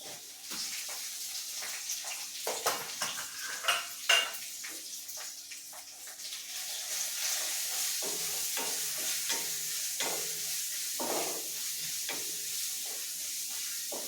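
Crushed ginger, garlic and green chili sauté in a pan for a Kerala beef roast, giving a soft continuous sizzle broken by scraping stirs and occasional clinks of a spoon against the pan.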